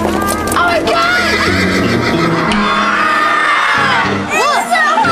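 A horse whinnies loudly underground in an old mine, with a crowd of people shouting and cheering around it and voices talking throughout.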